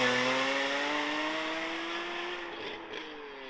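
BMW E46 M3 with a modified exhaust, a close, rising engine note that sweeps upward as the car accelerates before tapering off, with no speech over it.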